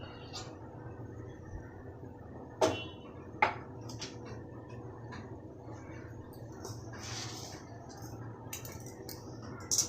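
A kadai is set on a lit stove and oil is poured in, giving two faint metallic clinks and a few softer taps over a quiet, low kitchen hum.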